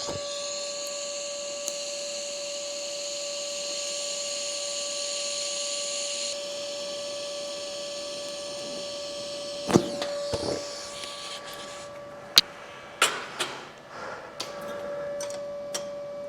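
A stick welding arc burns with a 316L rod at 115 amps, giving a steady whining hiss with a faint tone. It then turns into irregular crackles and pops near the end.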